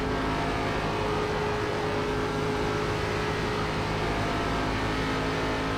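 An ARCA race car on the Charlotte oval in iRacing drones steadily and loudly at full throttle coming off a corner, a constant near engine tone with no break for the whole stretch.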